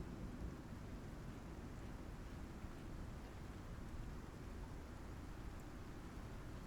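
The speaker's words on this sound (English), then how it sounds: "we're going to wait out the storm" A thunderstorm in the survival video game Icarus gives a steady, faint wash of heavy rain with low rumbling thunder underneath, constant throughout without pauses.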